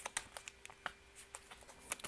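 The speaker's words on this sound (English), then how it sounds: "I don't know why the super sloppy shuffle." Tarot cards are shuffled loosely by hand, giving a light, irregular scatter of soft clicks and papery flicks. The close, quiet sound plays alone with no voice.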